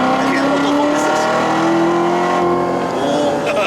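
A right-hand-drive 2019 Chevrolet Corvette Z06 accelerates hard, its engine note climbing through the gears in a loud, close, musical roar, with a voice speaking over it inside the cabin.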